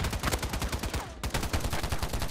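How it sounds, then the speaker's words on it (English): Rapid automatic gunfire from weapons in a little-known shooter video game, a dense string of sharp shots with a brief pause midway before the burst resumes, loud and close with no talking. "The weapon sounds are kind of meh at this point."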